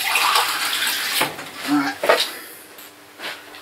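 Water runs briefly into a clean cup to top up a pet's water dish indoors, a short splashing rush with small knocks and faint background noise around it.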